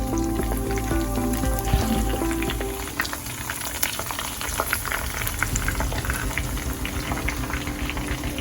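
Green chillies frying in hot oil for chicken fry, a loud dense bubbling crackle that stays constant and close throughout, with no voices.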